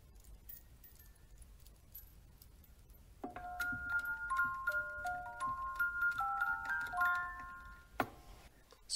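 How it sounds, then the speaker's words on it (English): A small music box movement resting on a wooden box plays a bright plucked tune, the box amplifying the notes into a clear, close melody after a quiet start. "some of the neat things about forced vibrations is this little music box movement."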